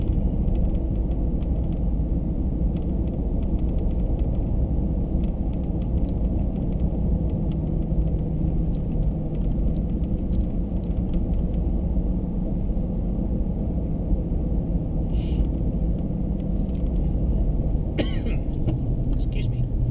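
Inside a Ford EcoBoost vehicle on the way up the Old Freezeout hill climb route, a steady low cabin drone of engine and road noise runs evenly throughout, with a cough near the end.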